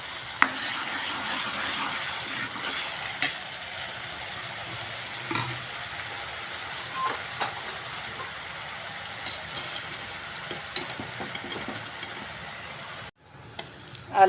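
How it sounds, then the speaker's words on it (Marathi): Onions sautéed until brown in a pan for a restaurant-style veg Kolhapuri, with a steady low sizzle and occasional sharp clinks and scrapes of stirring, then a brief drop near the end before stirring resumes. "कांदा ब्राऊन होईपर्यंत परतून घ्यायचे."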